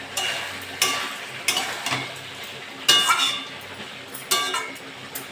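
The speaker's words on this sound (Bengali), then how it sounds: "এটা ভালো করে নেড়ে চেড়ে নেবো" A spoon stirs shrimp curry with ridge gourd, potato and pumpkin in a pan. Repeated scrapes and clinks come at an uneven rhythm, close and fairly loud, over a faint sizzle.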